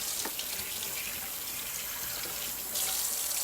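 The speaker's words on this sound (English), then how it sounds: "Hold on, let me wash my hands." Hands are washed under a running kitchen tap, with a steady, close stream of water splashing into the sink that grows a little louder near the end. No voices are heard.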